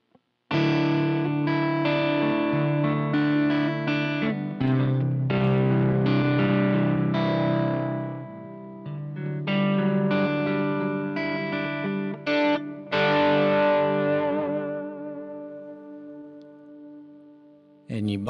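An electric guitar plays through an IdiotBox Effects Power Drive overdrive pedal, strummed chords and picked notes with mild crunchy distortion ringing out clearly, then a sustained chord decaying toward the end.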